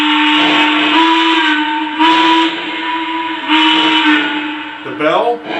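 A Lionel Legacy EM-1 2-8-8-4 model steam locomotive sounds its whistle in loud, sustained steady blasts, three long toots with short gaps, then a brief wavering note at the end.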